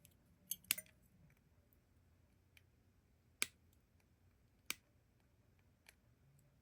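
Sharp snips of flush cutters trimming resistor lead ends on a StewMac IHOO overdrive guitar pedal kit, a few isolated clicks spaced seconds apart in a quiet room.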